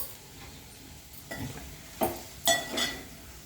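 Carrot fry with coriander cooks in a pan, a faint steady sizzle broken by a few louder scraping stirs near the end, with no talking.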